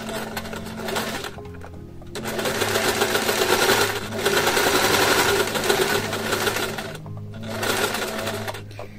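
A sewing machine stitches bias binding in long steady runs of rapid mechanical whirring, pausing twice briefly between bursts, heard close up with no talking.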